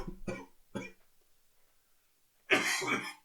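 Three sharp coughs in quick succession, close to the mic, followed after a pause by a louder, longer throaty cough or breath burst.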